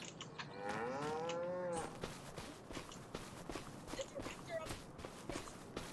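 Cattle in the farming game Farming Simulator 25 give one long, close moo, followed by shuffling hoof steps and footfalls; a voice talks softly underneath.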